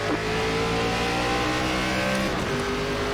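NASCAR ARCA Series race cars at Texas in iRacing accelerating at the green flag, a loud dense roar of many engines revving up together, continuous and close with no talk.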